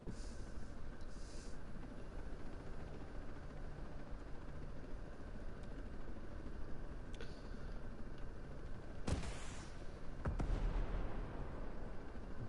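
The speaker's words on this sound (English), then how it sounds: "I do like the new sound effects for the rockets though, I'll say that." Rocket explosions in a tactical shooter video game: two sharp blasts about a second apart near the end, each with a rumbling tail, over a steady bed of game ambience and low noise.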